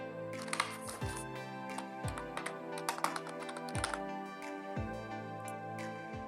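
Keys clack on a computer keyboard in quick bursts while a Google search is typed, close and crisp with short pauses between runs of keystrokes.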